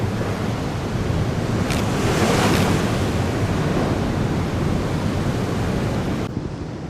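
Large Black Sea waves crash steadily against a pier, a loud, continuous roaring surge with wind buffeting the microphone and a brief heavier swell near the middle, no voices over it.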